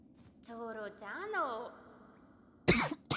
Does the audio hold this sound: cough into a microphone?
yes